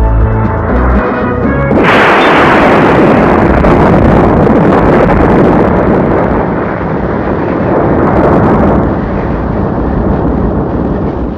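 Loud bomb explosion in a Tamil film scene: a sudden huge blast after a low musical opening, followed by a long roaring, rumbling wash of debris and fire that slowly fades, with no speech.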